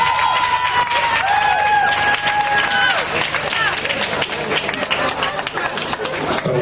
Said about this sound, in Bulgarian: Аплодисменти за Чита!